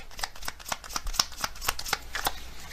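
A deck of tarot-style cards riffled and shuffled in a rapid run of crisp, close flutters and snaps, ending as a single card is drawn, with no talking.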